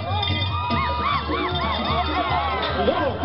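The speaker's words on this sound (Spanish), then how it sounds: "¡Échenle un aplauso!" A crowd at a jaripeo bull-riding event in Mazatepec, Puebla, cheers and whoops with scattered shouting and babble, lively and continuous, with people talking and yelling through it.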